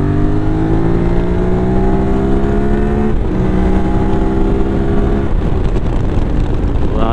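A QJ Motor SRT 600 SX motorcycle accelerates at full throttle, its loud engine whine climbing steadily in pitch through two clear gear changes before easing off near the end.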